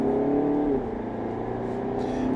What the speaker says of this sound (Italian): Fa lo stesso rumore della mia Audi A4 del 98 Avant in accelerazione